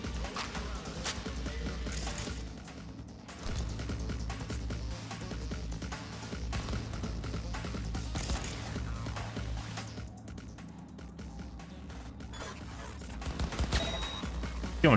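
Gunfire in Cyberpunk 2077 rattles in rapid bursts over a dense, busy game soundscape, loud and sustained with brief lulls between volleys.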